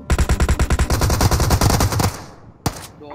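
AK rifle in PUBG Mobile firing a loud rapid automatic burst of about two seconds, evenly spaced shots, followed by a decaying echo and one more sharp shot.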